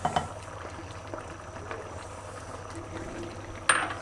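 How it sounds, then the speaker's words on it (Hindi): Half a cup of cooking oil goes into a pan already holding green chilies and ginger for chicken butt karahi, giving a soft, steady bubbling hiss with a brief clink near the end. "और अब यहाँ पे हम कुकिंग ऑयल भी शामिल कर देंगे।"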